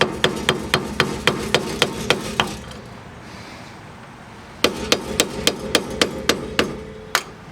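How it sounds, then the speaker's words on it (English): Screwdriver hammered against a wheel bearing cap on a 1998 Honda Accord: two bursts of sharp, evenly spaced metallic taps, about eight quick strikes each, close and loud, separated by a quiet pause. "Next thing we want to do is tap this bearing cap off."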